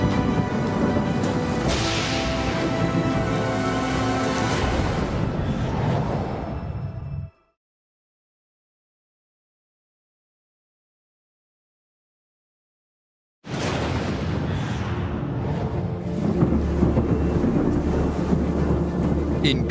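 A tropical thunderstorm roars over the construction site of Malaysia's 2,000-foot Merdeka Tower, a loud, dense rumble and rush of rain and wind that cuts to total silence for several seconds before surging back just as loud.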